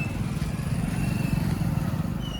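Motorcycle engines idle and rumble steadily at a parking area on the Gangotri to Gaumukh mountain trek. The low, continuous drone sits close by for the whole stretch, with no clear voices.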